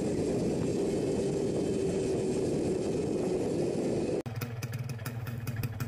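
A two-stroke Unirace Sport motorcycle engine idles steadily just after a cold morning start, a loud continuous buzzing putter close by that shifts to a sharper, rattling tone near the end.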